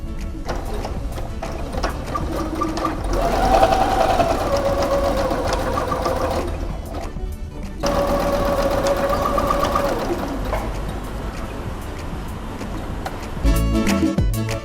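A sewing machine runs a seam along lunch bag fabric in close, loud, steady bursts of rapid stitching, pausing briefly around the middle before starting again, with no talking over it.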